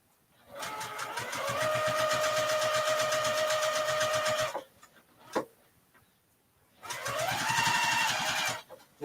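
Sewing machine stitching a large reusable tote bag, a close rapid motor hum with steady needle ticking running about four seconds, a pause with a single click, then a second shorter burst of stitching.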